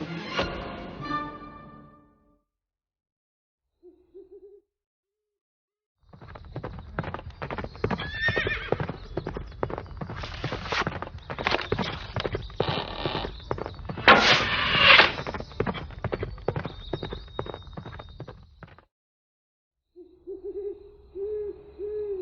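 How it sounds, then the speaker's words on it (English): Hooves clatter in a fast, rhythmic gallop for several seconds, loud and close, with a horse's whinny and other brief sounds before and after. "What she did like was riding full speed through the countryside on her horse Angus, shooting arrows with her bow."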